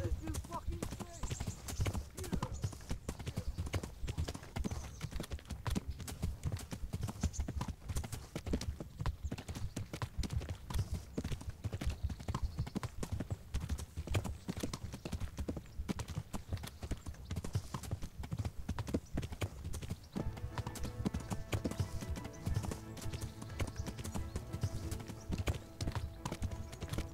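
Horse hooves clip-clop steadily at a trot in the medieval role-playing video game Kingdom Come: Deliverance, a continuous close rhythmic clatter under game music and someone talking.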